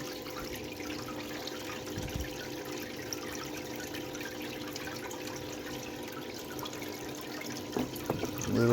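Water runs and trickles steadily through a highbanker sluice, a continuous splashing flow close by with a few brief clunks near the end.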